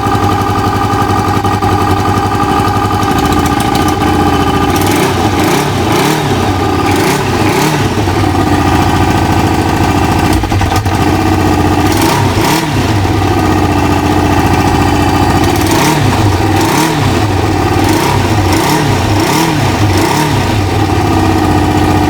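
Kawasaki ZL600 Eliminator motorcycle engine running cold on only three of its four cylinders, a loud, close, continuous uneven rumble with repeated revs rising and falling.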